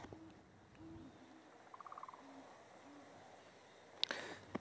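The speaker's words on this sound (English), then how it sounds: "I hear the great horned owl beginning to hoot." A great horned owl hoots softly and far off at sunset, a few low, spaced hoots against quiet outdoor ambience, with a sharper brief noise near the end.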